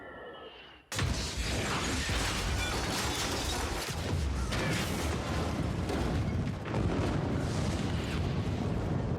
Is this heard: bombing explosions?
yes